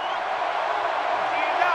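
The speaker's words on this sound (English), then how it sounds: "And this crowd is going absolutely crazy" A packed football stadium crowd at an LSU versus Mississippi State college game roars in a steady wall of cheering, with commentators talking over it.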